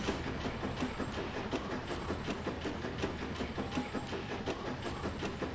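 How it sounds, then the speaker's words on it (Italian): A train rolls along in the Bayonetta 3 video game, a rhythmic clickety-clack of wheels over rail joints with a rumbling carriage drone and occasional high squeals, steady and fairly close, with no speech. "Vibra il controller man mano che viaggio col treno."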